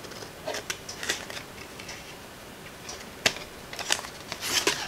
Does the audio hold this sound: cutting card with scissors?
yes